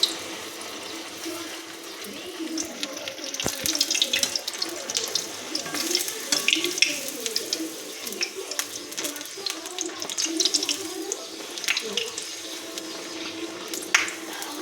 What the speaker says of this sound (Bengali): এবারে আস্তে আস্তে এক এক করে লুচিগুলো ভেজে নেওয়া হবে।